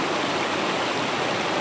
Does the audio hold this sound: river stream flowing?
yes